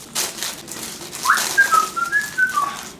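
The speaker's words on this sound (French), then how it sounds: "Il fait exprès de siffler, je rêve." A person whistles a short series of clear, fairly quiet notes that rise and fall, in an otherwise quiet room.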